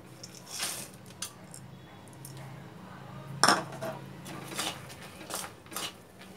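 Peanuts tipped into hot jaggery syrup in a pan while making chikki give a sharp clattering clink partway through, amid faint kitchen clinks and quiet background.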